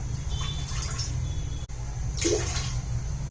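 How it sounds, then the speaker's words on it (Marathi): Two glasses of water are poured into a pressure cooker, making a steady close splashing flow with a brief gush partway through, heard alone without talk. "दोन ग्लास पाणी टाकूया"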